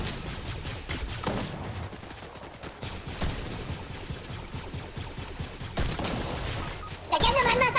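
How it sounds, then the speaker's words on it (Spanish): Rapid gunfire bursts in the Fortnite video game, repeated crackling shots spread across the clip under excited talking, with a louder flurry at the end. "Lelia, he fallado todos los tiros, Maki Maki."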